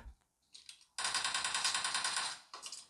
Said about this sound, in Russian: Так, уже кто-то стреляет.